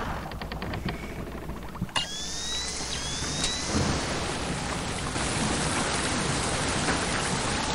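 Heavy rain hisses steadily in the video game Splinter Cell Chaos Theory, a dense wash of noise with a rumble of thunder underneath, while short electronic chirps and tones from the game sound early on.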